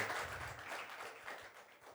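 A faint, steady round of applause from an audience after an educational session about building a Stradivarius violin replica in India, heard from a distance as a continuous patter.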